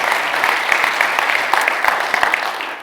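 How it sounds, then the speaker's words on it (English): Audience applause at a Microsoft Digital Sovereignty Summit on sovereign cloud, AI and security, a steady dense wash of clapping lasting throughout, fairly loud and even with no talk over it. "Please give them another round of applause"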